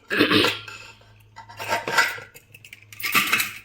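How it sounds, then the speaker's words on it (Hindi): Three bursts of metallic clanking and rattling as a pressure cooker lid is opened after cooking pulao, separated by short pauses over a low steady hum. "चलिए कुकर खोलते हैं।"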